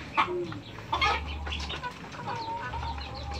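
Chickens clucking and squawking nearby on a farm where the hens are laying eggs, with repeated short calls rising over a steady low background hum.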